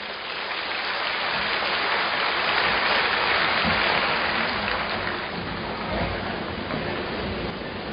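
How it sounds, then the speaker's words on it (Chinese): Sustained audience applause at a spiritual sharing gathering, a dense, steady wash of many hands clapping for the full length without break, fairly loud and with no voices over it. "让我们掌声欢迎。"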